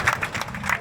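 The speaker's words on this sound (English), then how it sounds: "give yourself a round of applause" Audience applause with brief clapping bursts from a small crowd, short and moderately loud.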